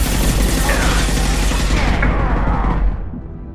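Heavy gunfire in Mass Effect 2: dense, continuous automatic fire with booming impacts, loud and close, that tapers off abruptly near the end into a quieter rumble.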